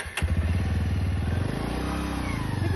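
A motorcycle fired up with its self-starter, the engine catching after a brief click and settling into a steady, close, chugging idle with a regular mechanical pulse.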